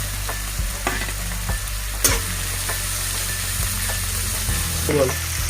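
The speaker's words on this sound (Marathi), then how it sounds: "एक चमचा मोहरी टाकते फुल गॅस केला" Mustard and cumin seeds crackle and sizzle steadily in hot oil over full flame, with a few sharp stirring clatters against the pan.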